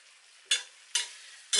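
Jerk prawns finishing on a grill, three short sharp sizzling bursts at even intervals against near silence, close by.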